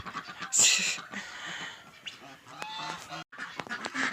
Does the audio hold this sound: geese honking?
yes